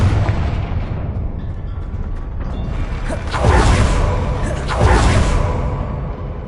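The Confringo fire spell from the game Hogwarts Legacy lets off two loud, whooshing blasts a second or so apart, each a broad fiery burst over a low rumble of combat noise.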